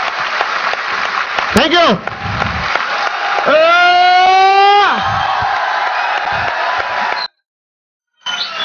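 Audience at a stage event claps and cheers loudly, with rising whoops and yells over continuous applause before it cuts out briefly near the end; a voice speaks a few words.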